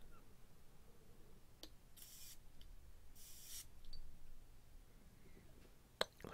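Two separate hissing bursts of a perfume spray bottle in a quiet room, each lasting about half a second, with a sharp click near the end.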